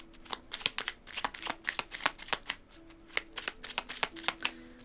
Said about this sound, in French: on va mettre une carte de l'oracle de l'évolution